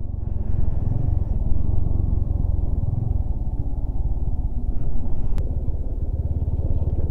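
A heavily loaded motorcycle rides off-road over a rocky mountain road, its engine rumbling steadily and close throughout with slight surges in throttle.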